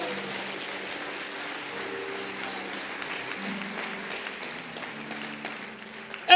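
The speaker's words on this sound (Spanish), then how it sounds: "¿Alguien puede aplaudir a Jesús por eso?" Applause from a church congregation for Jesus during a Spanish-language sermon, a steady, moderately faint wash of clapping that holds for several seconds with a few louder hits at the end.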